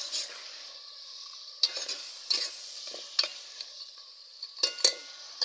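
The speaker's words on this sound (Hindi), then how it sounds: "सारा मिक्स कर देंगे।" Chicken gizzards with masala being stirred in a frying pan, a steady sizzle broken by several sharp scraping strokes of a spoon against the pan.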